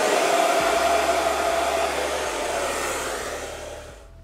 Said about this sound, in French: je vais passer un petit coup de sèche-cheveux quand même